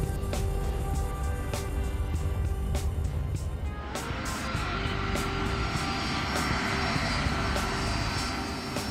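A US Air Force C-5 Galaxy, the largest USAF transport, rolls down the runway just after touchdown, its engines roaring steadily with a broad rumble and rattling thumps as spoilers deploy, loud and continuous throughout.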